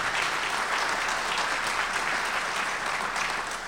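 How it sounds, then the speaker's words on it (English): Steady, dense applause from a symposium audience in a museum setting, a continuous even wash of many hands clapping with no voices over it. "who should be applauded too."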